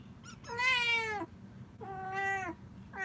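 A mother cat gives two clear, drawn-out meows close by, the second slightly shorter, separated by a brief quiet pause with faint room hum beneath.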